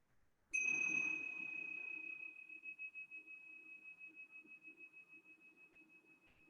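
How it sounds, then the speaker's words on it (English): A meditation bell is struck once, giving a clear bright ring that hangs on as a long, slowly fading tone with a gentle wavering pulse. "I want to first ring the bells just to get us present."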